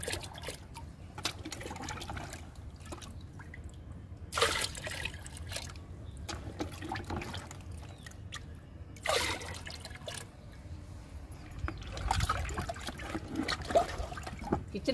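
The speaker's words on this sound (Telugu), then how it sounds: "కిచెన్ వేస్ట్ లిక్విడ్ కూడా 3 మగ్గులు పోస్తున్నాను." Kitchen-waste liquid fertilizer poured from a mug into a bucket, giving a few separate splashing, trickling pours that rise and fade over steady low background noise, close by.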